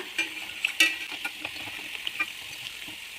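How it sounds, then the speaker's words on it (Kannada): Spinach and cashew pakoda fry in hot oil as they are turned over, giving a soft, steady sizzle broken by light clinks and stirring taps, with no speech. "ಒಂದು ಕಡೆ ಫ್ರೈ ಆದ ನಂತರ ನಾವು ಮತ್ತೊಂದು ಕಡೆ ತಿರುಗಿಸ್ಕೊಳ್ಳೋಣ"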